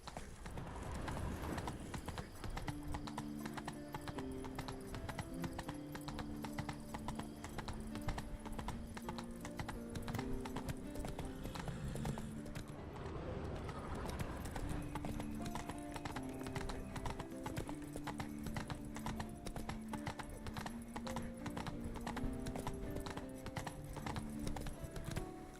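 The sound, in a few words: horse Roach hooves clip-clopping in The Witcher 3 video game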